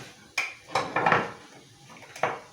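A small spoon clinking against a glass or cup while sugar is stirred into milk for homemade yogurt, a few sharp separate metallic taps and a short scraping rattle, close and clear with no talking.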